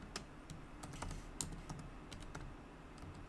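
Quick keystrokes on a computer keyboard while entering all-caps title text in Photoshop, a steady run of light clicks with a few sharper taps, close and clear over quiet room tone.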